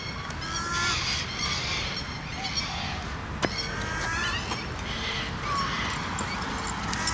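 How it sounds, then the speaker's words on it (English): Tame ducks near a footpath giving repeated loud honking quacks, close by and overlapping in an irregular stream over steady outdoor background noise. "Two very tame duckies."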